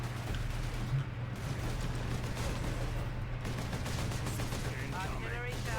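Rapid gunfire from a Warhammer 40k Space Marine battle, dense bursts rattling steadily throughout over a constant low hum, with a faint voice briefly audible near the end.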